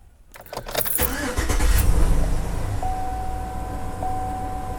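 GMC truck engine cranking briefly, then catching and settling into a steady, close idle, with a faint warning chime sounding twice near the end.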